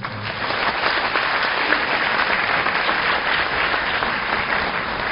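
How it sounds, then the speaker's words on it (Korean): An audience at a university entrance ceremony and orientation claps steadily to welcome student council representatives, a dense, even wash of many hands sounding from a large hall. "박수로 환영해주세요."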